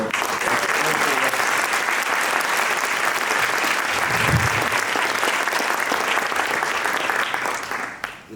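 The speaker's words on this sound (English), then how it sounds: "Can we just have another round of applause for" Sustained, loud applause fills the room at an awards breakfast as a company president and CEO returns to the podium, a thick, continuous roar of many hands that fades out at the very end.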